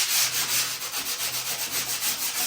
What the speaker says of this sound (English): So I'm just going over quickly with some sandpaper just to make sure there's no like spiky bits.